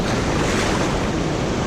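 Ocean waves washing back down a beach at low tide, a loud continuous rushing wash of surf with wind buffeting the microphone, steady throughout with no voices.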